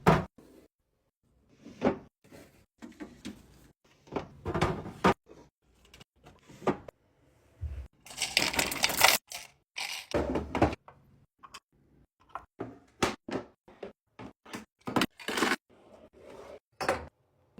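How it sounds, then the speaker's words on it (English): Cabinets and drawers being restocked: a string of sharp wooden knocks, thuds and sliding clicks as doors and drawers open and close, irregular and close up with short quiet gaps, plus one longer scraping slide midway. "Last thing I need to do is restock my cabinets and drawers"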